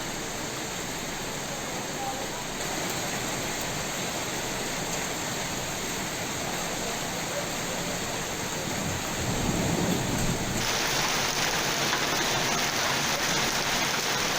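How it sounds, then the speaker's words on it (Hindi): Heavy rain with hail pounds down in Mussoorie as a loud, dense, unbroken roar that holds for the whole stretch and swells slightly near the end. "किस तरह से भारी बारिश हो रही है और ओलावृष्टि भी हो रही है"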